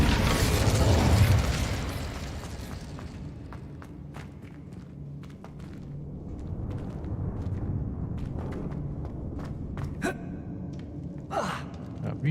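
A fire spell cast in a video game: a broad rushing whoosh opens the clip and fades into low, steady game ambience, with a couple of short bright bursts near the end.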